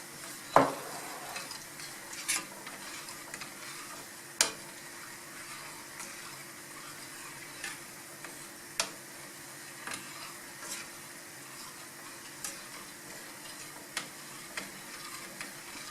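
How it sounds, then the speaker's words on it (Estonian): Chopped onion sizzles and stews gently in a pan, a soft steady hiss broken by periodic sharp clicks and taps of a utensil against the cookware, with no talking. "Ja nüüd sibul haub siin ilusti."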